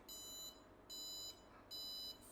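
An IoT railway crossing gate simulator buzzer gives three sustained electronic beeps, each about half a second long with short gaps, close but faint.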